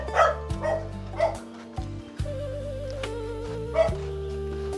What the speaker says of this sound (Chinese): 这个小狗狗